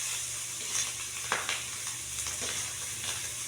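Tuyo, dried salted fish, frying in a pan: a steady soft sizzle with small popping spatters and occasional stirring scrapes, fairly quiet and close, with no talking.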